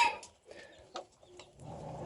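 Chickens on a farm in Antalya peck at feed from a raised feeder, giving off a few soft scattered clucks and low calls amid faint rustling, close and quiet, with no talk.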